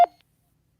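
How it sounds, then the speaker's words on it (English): A single short electronic roger beep from a ham radio transceiver, crisp and clipped, then silence. "This is the first Roger beep."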